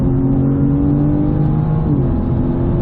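A BMW M4 GT4 racing car in a video game runs at full throttle, a loud, sustained engine drone with steady tones that shift slightly as it pulls down a straight.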